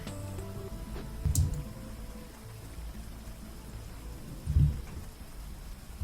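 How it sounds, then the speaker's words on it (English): Rain ambience in World of Warcraft, a steady static-like hiss with low rumbling undertones and two brief louder thumps, no talking. "I'm only hearing half the rain."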